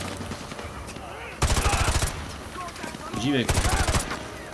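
Gunfire in Call of Duty MW2 Remastered: two loud, rapid automatic bursts, each about half a second long, separated by a pause, with someone speaking briefly between them over low game ambience.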